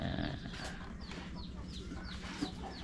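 Chickens cluck repeatedly at a rural Thai home, a steady run of short calls at moderate distance, fairly faint against a low background hum.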